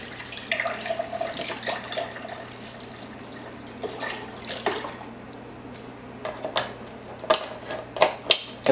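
Beef broth pours into a cooking pot in a home kitchen, giving a soft, steady liquid splash with a few clinks and knocks near the end. It sounds close and fairly quiet, with no talking.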